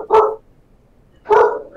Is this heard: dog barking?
yes